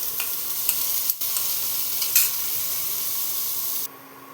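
Pointed gourd sizzles in a pan with chopped ginger for potol dorma, a steady close hiss broken by a few stirring clinks, before it drops quieter near the end.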